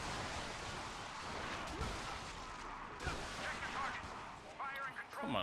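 Gunfire and explosive blasts fill a firefight in the video game Resistance 2, dense and continuous with loud bursts, while a voice talks over the chaos.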